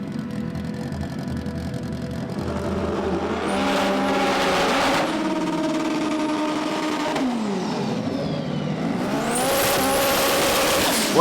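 A Honda Civic and a VW launch side by side in a front-wheel-drive drag racing qualifying run, engines revving hard and roaring loudly as they accelerate, with a brief tire squeal and rising pitch as the cars pull away.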